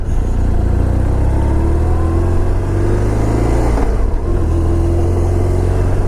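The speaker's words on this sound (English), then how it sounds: "What a pleasure to ride a BMW Boxer." A BMW Boxer motorcycle engine runs during a ride, with a loud, continuous droning hum that holds nearly steady, plus rushing wind and road noise.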